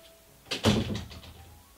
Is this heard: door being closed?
yes